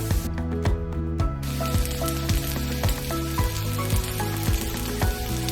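Green coriander vadi pieces fry with lightly browned onions in a pan over low flame, giving a loud, dense sizzle. Soft regular clicks or taps sound under it.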